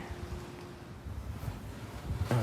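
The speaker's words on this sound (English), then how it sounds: "Yes, it's cold and windy and rainy." Steady, fairly loud wind rushes and buffets outdoors on a cold, rainy day beside a 1978 Ford Country Squire station wagon under repair, with low rumbling gusts throughout and a short bump near the end.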